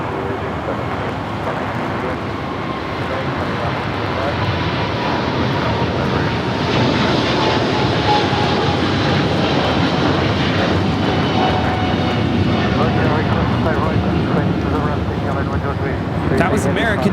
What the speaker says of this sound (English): That was American Airlines Flight 73 taking off to Sydney, Australia on the 777-300ER.